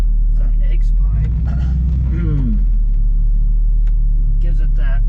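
An 81 C10 truck with an X-pipe exhaust rumbles loudly and steadily, its deep engine note swelling briefly, while people talk over it throughout.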